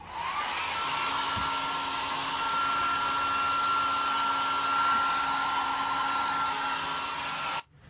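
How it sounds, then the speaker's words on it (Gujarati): A hair dryer blowing on long hair roars steadily and close for nearly eight seconds with a constant whine on top, then cuts off abruptly at the end. "આપણે થોડુંક ડ્રાયર કરી નાખીએ માથામાં"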